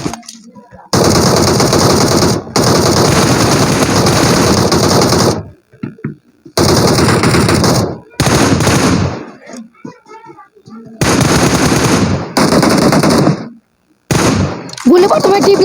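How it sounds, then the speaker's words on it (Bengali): Rapid M4 machine gun fire in a mobile shooting game, loud sustained bursts broken by short pauses, with a few quieter gaps between volleys. "একটু গুলি দিলাম।"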